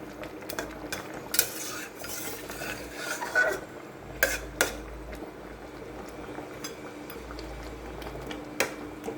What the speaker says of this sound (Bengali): মাছগুলো একটু জাল হবে।